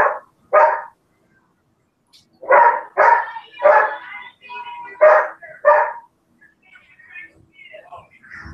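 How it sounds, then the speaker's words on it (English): Dogs bark in a series of sharp, loud barks, some in quick succession, with short pauses between groups. "What are they barking at?"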